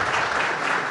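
Audience applause at an agricultural program event, dense and even clapping from a crowd filling the moment, moderately loud and sustained without speech.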